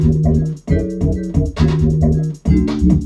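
An FM synth with a reshaped attack plays a grimy, wobbling bass riff in loud, pulsing phrases separated by short gaps, its buzzy tone rising and falling in steady rhythm.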